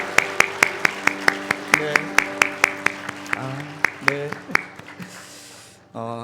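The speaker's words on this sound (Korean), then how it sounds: "뜨겁게 박수로 격려해 주십시오." A church congregation bursts into sharp, rapid rhythmic clapping that fills the room, with a voice speaking briefly over it before the applause fades and a short final burst closes it.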